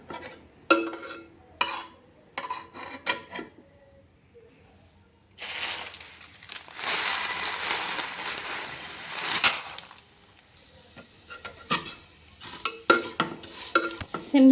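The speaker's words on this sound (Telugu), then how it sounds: "వేసేసుకొని సేమియా వేయించుకోవాలి." Vermicelli toasting in ghee in a pot over a low gas flame, with soft sizzling and intermittent scraping stirs, a burst of louder frying in the middle, and scattered clinks of utensils.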